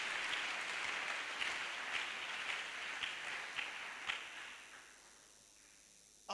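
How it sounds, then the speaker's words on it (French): A church congregation claps at a Friday service, a dense, steady burst of many hands that holds strong and then thins and fades toward the end, with no talking over it. "Pika mikono kama unagusiwa."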